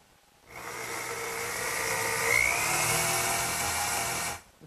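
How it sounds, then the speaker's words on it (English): Power drill boring dowel holes with a 1/4 inch brad point bit, a steady high whine that runs for about four seconds with a slight rise in pitch and loudness midway, starting and stopping abruptly. "I've marked out the location where I have to drill the holes. And I'll use a brad point bit"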